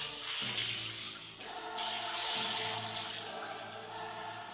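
Water runs steadily from a shower in a run-down Kyiv university dormitory while feet are washed, a hissing, splashing flow with a few shifts in pitch as the stream changes. It sounds fairly quiet and close.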